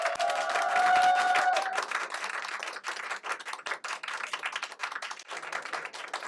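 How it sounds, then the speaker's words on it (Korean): Audience applause at a meeting hall gathering with a presidential candidate, loud dense clapping from a crowd that holds steady, then thins into scattered claps, with a faint tone early on. "조금 더 큰 박수 부탁드리겠습니다."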